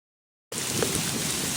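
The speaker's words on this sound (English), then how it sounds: "In about 15 minutes of hard rain, it has turned this trail into a literal river." Hard rain pours steadily onto a sandy trail among pines, the ground running with water like a stream; a dense, even hiss begins abruptly and holds at moderate loudness with no voices.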